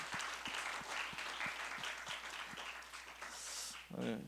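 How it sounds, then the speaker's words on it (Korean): A church congregation at a worship service applauds high school seniors, a faint, distant wash of clapping with a few sharper claps standing out, ending in a brief voice. "우리 고3 랩런트들을 위해서 격려의 박수 한번 보낼까요?"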